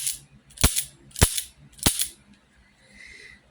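A Taurus Model 856 revolver's action is worked, giving three sharp, close metallic clicks spaced about half a second apart, followed by faint handling noise.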